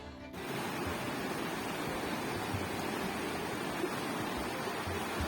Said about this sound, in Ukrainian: Є різні річки, є гірські, вони шумлять